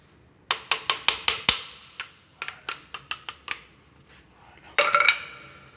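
A hammer taps on brake parts of a Kymco Agility 16+ 125 scooter during a brake pad job: a quick run of five or six sharp metallic knocks, a pause, another run of lighter taps, then a final double strike, close and clear.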